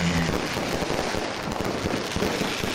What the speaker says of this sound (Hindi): बर्मिंघम के स्टैफर्ड रोड पर शानदार आतिशबाजी की गई